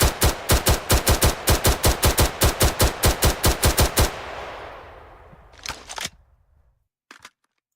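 Semi-automatic gunfire from a video game under development rings out as a rapid, evenly spaced string of about twenty sharp shots, then a fading echo tail, followed by a few isolated later shots and clicks.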